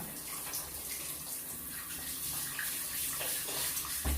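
Water splashing and running steadily as a person is rinsed during a bath, a close continuous pouring wash with no talking.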